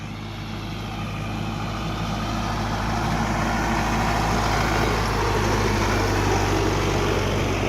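A tractor engine runs steadily and close by, giving a loud, unbroken diesel drone with a low rumble that holds even for the whole stretch, with no talk.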